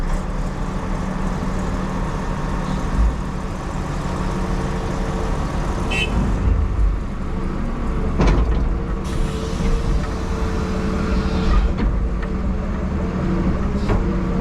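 A heavy truck backing up near a rock work site, engine rumbling steadily nearby with mechanical clanks and creaks as it moves slowly, a continuous low drone with occasional sharp knocks.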